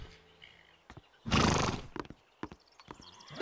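A horse gives a loud, close neigh lasting about half a second, surrounded by sparse hoof clops and knocks in a cartoon scene.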